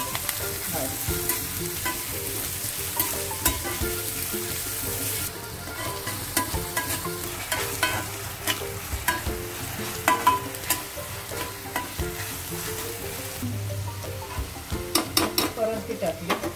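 Onion sautéing in a pan for chicken Russian cutlets, continuous crackling sizzle with frequent spatula scrapes and clinks against the pan, one brief muffled voice partway through.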